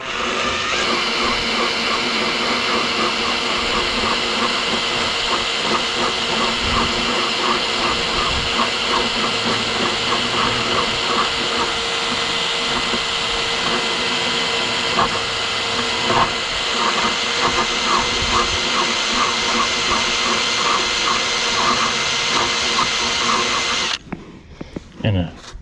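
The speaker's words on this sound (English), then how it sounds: "these carbide burrs are great for this, to remove this stuff" A carbide burr grinds rust off a car body in a backyard repair, a steady, loud whir and hiss running almost without pause before cutting off near the end.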